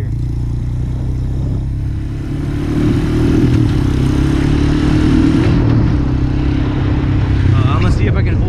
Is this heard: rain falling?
no